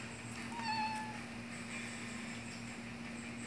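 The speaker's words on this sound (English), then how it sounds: "It's the cat." A single short, faint meow from a cat rises briefly over a steady background hum.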